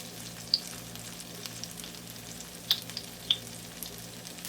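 Boneless mutton burra pieces frying in a pan over a medium-high flame, a faint, steady low sizzle with a few sharp pops.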